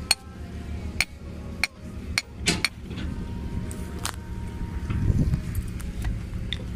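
Irregular sharp metallic taps of a hammer driving a grounding rod into the ground, spaced unevenly, with a low rumble of background noise between the hits.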